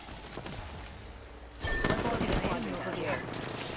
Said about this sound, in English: You can see Fussy trying to take some shots at a team that's trying to relocate here